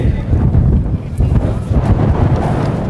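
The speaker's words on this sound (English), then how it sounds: "It's pretty windy." Heavy wind buffets the microphone at an outdoor high school graduation ceremony with a steady low rumble throughout, dense and loud, with gusty swells and no clear voices on top.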